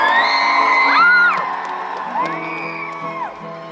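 A live concert audience whoops, yells and cheers loudly for a guitarist, with bright shrill whistling whoops rising and falling over a dense crowd roar that fades slightly toward the end.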